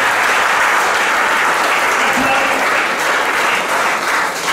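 A church congregation applauds and cheers in sustained, dense clapping that stays loud and steady throughout, with a faint voice rising now and then beneath the crowd.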